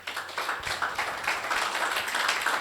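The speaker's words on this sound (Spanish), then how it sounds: "Aplauso a Jesús." A church congregation applauds, with dense steady clapping from many hands that carries through the whole moment in a reverberant hall.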